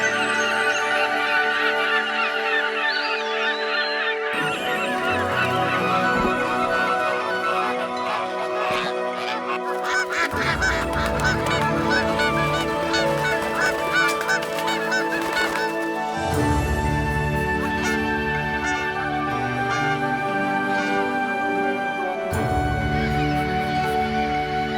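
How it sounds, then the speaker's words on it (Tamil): Geese honk loudly and repeatedly in a dense, overlapping chorus that shifts in waves, with other bird calls mixed in throughout. "வானத்துல பறக்கிற பறவைகள் உண்டாகட்டும்"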